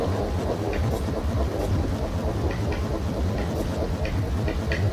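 Cammed-style car engine in Forza Horizon 3, a continuous loud rumbling drone with rough lopey pulsing, steady throughout with no talk.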